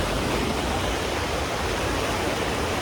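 Strong river current rushing steadily at close range, a dense, loud broadband roar of flowing water with no pauses, no voices and no distinct splashes standing out.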